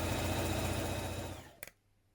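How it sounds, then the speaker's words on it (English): A sewing machine runs steadily stitching the side seam of a dress, a close, continuous whirring hum that slows and stops after about a second and a half, followed by a couple of small clicks. "just in front of that we want to back tack again. Carry on down this side seam."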